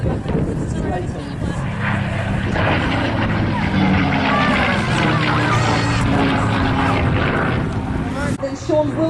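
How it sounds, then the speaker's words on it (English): A Mark 9 Spitfire flying a display at the Classic Fighters airshow in Omaka: a loud, steady piston-engine drone with a rough, buzzing tone that holds strong and close for the whole stretch. "A big wave for Sean and the Mark 9 Spitfire."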